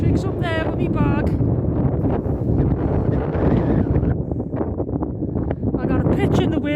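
Strong wind buffets the microphone and an Olpro Voyager tent pitched on Hownam Law, a 449 m hilltop, during gusts of about 65 km/h. The roar is loud and constant, and a person talks over it throughout.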